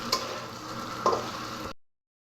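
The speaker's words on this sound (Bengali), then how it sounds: "কর্নফ্লাওয়ারটা দিয়ে এরকম করে সাথে সাথে নেড়ে করে দিতে হবে" Mixed vegetables coated in cornflour are stirred in a hot pan, giving a soft sizzle broken by two short scraping strokes of the spatula, and the sound then cuts off abruptly.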